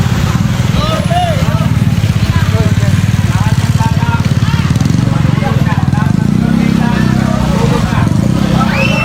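Motorcycle engine idling close by at night in a Manila street, a steady putter running throughout, with loud overlapping voices and shouting on top.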